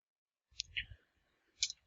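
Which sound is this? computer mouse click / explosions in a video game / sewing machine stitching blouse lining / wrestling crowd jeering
computer mouse click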